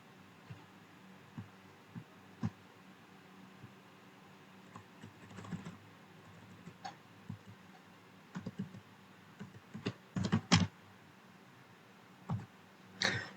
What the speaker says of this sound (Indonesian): Di sini kita ketikkan localhost